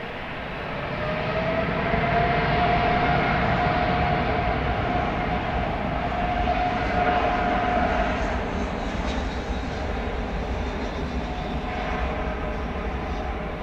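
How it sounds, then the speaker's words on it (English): A Qatar airliner on the runway at DFW Airport at night, its jet engines giving a loud, steady, far-reaching roar with a whining tone, holding constant for the whole stretch. "we should be able to spot the Qatar aircraft as we pan down the runway"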